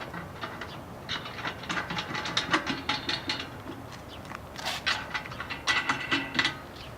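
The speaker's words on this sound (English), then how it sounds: "Tighten the nuts." A ratchet wrench tightening nuts while installing a VanDeny lockbox, rapid clicking bursts in uneven runs with brief pauses, close and clear with no talking.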